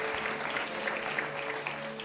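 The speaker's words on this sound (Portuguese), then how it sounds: "Aplaude ele" Applause from a church congregation, a steady wash of clapping at moderate loudness with a faint hum underneath, no speech.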